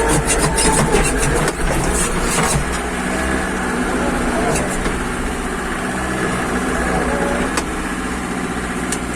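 A homemade mini MTZ tractor engine with a freshly replaced clutch disc runs loud and steady as it pulls off in second gear in snow, a constant close drone with small shifts in pitch.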